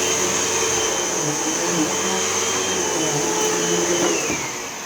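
A Hoover upright vacuum cleaner running steadily nearby, a loud constant motor whine and airflow roar that begins to wind down at the very end.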